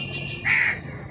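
A crow gives a single harsh caw, close and clear, after a couple of faint calls in the background.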